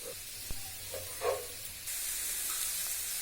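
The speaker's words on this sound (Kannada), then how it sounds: "ಅದಕ್ಕೆ ಈರುಳ್ಳಿ ಹಾಕಿ ಫ್ರೈ ಮಾಡ್ತಾ ಇದ್ದೀನಿ" Onions sizzling and frying in a pan with cooked mutton, cinnamon, cloves and cardamom, a steady close hiss with a few stirring knocks and a louder sizzle surge partway through.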